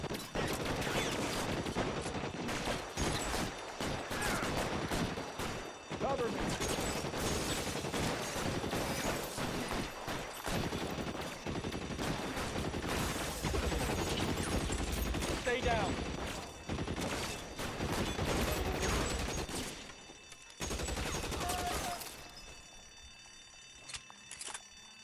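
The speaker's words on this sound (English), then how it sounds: "Yeah, pick up the Tommy gun." Rapid bursts of Tommy gun fire crackle through a detective video game shootout, dense and loud for most of the stretch with short pauses, mixed with game sounds and voices before fading near the end.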